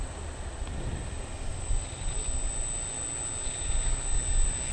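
An FMS J-3 Piper Cub RC float plane, a 1400mm model, taxis on windy water: a steady high electric motor whine over a constant rush of wind and water noise, with no talk.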